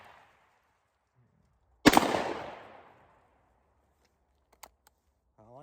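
A single loud, sharp blast from a St. Etienne 16 gauge double barrel shotgun, with a long decaying echo afterward and a few small clicks near the end.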